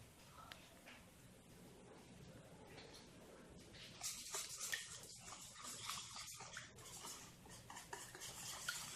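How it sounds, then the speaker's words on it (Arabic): A spoon scrapes and clinks in a bowl as biscuit dough ingredients, including cocoa, are stirred together, a faint, steady stirring sound close by that grows busier partway through. "دابا غادي نخلط هاد المكونات"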